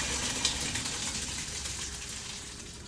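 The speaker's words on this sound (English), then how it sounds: "Pouring the water off." Cooking water poured off freshly boiled pasta, a steady close splashing gush with a hissing, rain-like wash that runs without a break.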